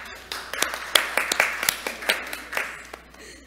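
A church congregation claps during service announcements, giving a short, moderately faint round of scattered hand claps that thins out after about three seconds.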